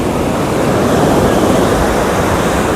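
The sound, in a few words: ocean waves at high tide on Agonda beach, Goa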